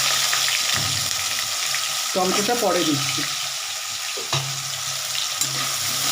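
Potatoes and chopped onions fry together in hot oil in a pan, a steady broadband sizzle running throughout, with a voice talking briefly over it and a few light scrapes and knocks.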